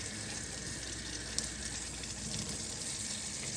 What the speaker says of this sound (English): I turn on water like this